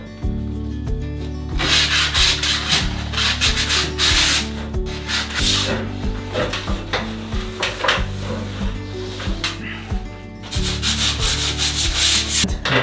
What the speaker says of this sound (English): I'm gonna just sand it by hand.